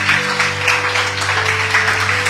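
A church congregation claps steadily, a dense wash of applause over a low sustained hum, with no break for its short length.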